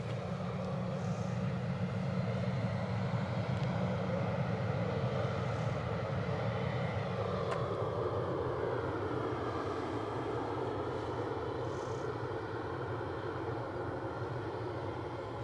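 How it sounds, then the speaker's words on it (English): A passenger aircraft departing Edinburgh airport for London City produces a continuous, moderately distant engine roar that holds steady and shifts slightly in tone as it climbs away. "aircraft you were looking at, off to London City"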